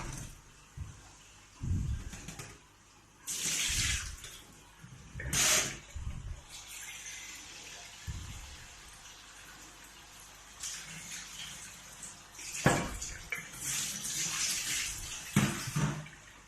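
Water drains and splashes from soaked fish being prepared as salted dried tuyo, heard as intermittent gushing and trickling bursts at moderate loudness, with quieter pauses between pours.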